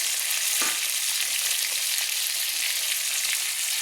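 Soaked pieces of dried mango sizzle and crackle steadily in hot oil in a pan, a close, constant frying hiss with a brief stir near the start.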